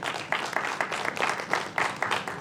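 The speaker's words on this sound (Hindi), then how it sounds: "एक बार उनके लिए जोरदार तालियां हो जाए।" Steady applause from a crowd at an awards ceremony, a dense continuous patter of many hands clapping with small surges, no talking.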